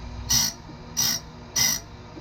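A Harbor Freight circular saw blade sharpener: three short, evenly spaced bursts of high-pitched metal grinding on the blade teeth, each lasting about a quarter second, with quiet pauses between.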